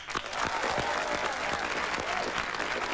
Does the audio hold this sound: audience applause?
yes